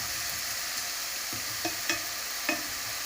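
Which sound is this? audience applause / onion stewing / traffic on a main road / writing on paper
onion stewing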